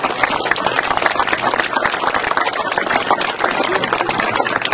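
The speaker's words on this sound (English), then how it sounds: "Let's give her a round of applause." An audience at the Carefree Arizona Heritage Project event honoring a history teacher breaks into applause, a dense, steady wash of many hands clapping, close and continuous with no speech.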